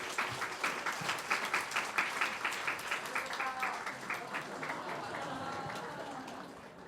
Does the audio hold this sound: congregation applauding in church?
yes